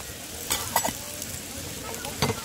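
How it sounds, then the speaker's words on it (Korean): Cheese heats in a ladle beside a mountain valley stream, giving a steady soft sizzle with a few scraping stirs and clinks on top. "지금 치즈를 국자에 달구고 있습니다"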